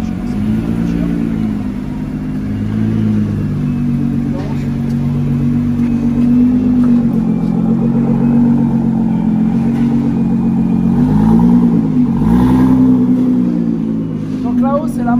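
A Nissan GT-R engine runs close and loud as it is driven onto a dyno, holding a steady low rumble with a few revving swells, while people talk over it.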